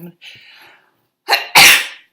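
A single close, forceful sneeze preceded by a short sharp inhale, with a faint bit of breathy voice just before it.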